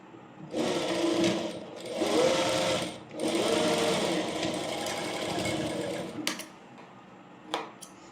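A sewing machine stitches an A-line frock in three long, steady runs of close, rapid needle clatter, then stops, leaving a few faint handling clicks.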